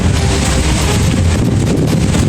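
Strong wind blowing hard against the microphone, a loud, steady roaring rush that fills the whole clip with no voices.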